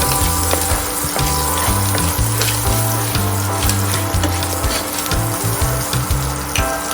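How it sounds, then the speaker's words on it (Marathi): Fenugreek seeds and asafoetida frying in hot oil for a drumstick dal, giving a steady, close sizzle that runs throughout under a low droning tone. "मेथी दाणे घालणार आहोत त्यावर थोडं हिंग घालून ते चांगलं मिक्स करणार"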